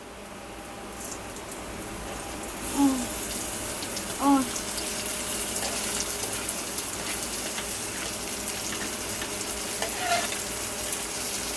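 Tomatoes go into a hot frying pan of chavli (cowpea) vegetable in a home kitchen, setting off a steady broadband sizzle that lasts throughout, with a few brief scraping stirs and occasional clinks.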